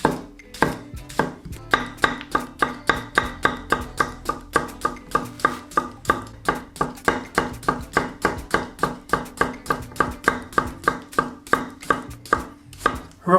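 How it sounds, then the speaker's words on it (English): A knife slicing cucumber for a salad on a cutting board, making a long, even run of crisp, close chops at a fast, regular pace with no talking. "For the salad, you want to slice in some cucumber."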